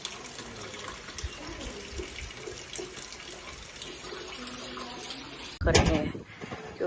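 Water runs steadily across a farm field at sowing time, a continuous broadband rush with a louder, closer surge near the end and voices faintly underneath.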